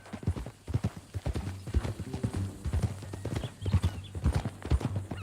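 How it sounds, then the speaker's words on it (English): Horse hooves clip-clop steadily in Red Dead Redemption 2, a quick run of close, distinct thuds. A low hum runs underneath the steps, and a snort or whinny is faintly mixed in. "That a new horse?"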